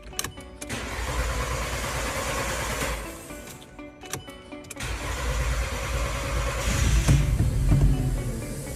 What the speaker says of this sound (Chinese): 来，你看好了啊，我现在打火。